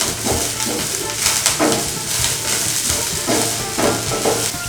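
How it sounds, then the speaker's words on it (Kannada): Drumstick flower stir-fry sizzles in a pan while being stirred, a continuous close hiss broken by rhythmic scraping pulses, fairly loud throughout. "ಉಪ್ಪು ಹಾಕಿದ ಮೇಲೆ ಒಂದು ಸರ್ತಿ ಈ ಥರ ಚೆನ್ನಾಗಿ ಮತ್ತೆ ಮಿಕ್ಸ್ ಮಾಡ್ಕೊಳ್ಳಿ"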